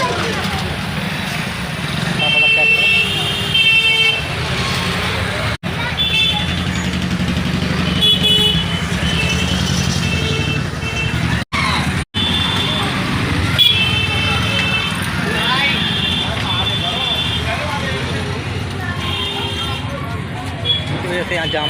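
Stalled main-road traffic in a jam caused by a parked tractor and house construction, with car horns tooting repeatedly over engine rumble while someone talks throughout.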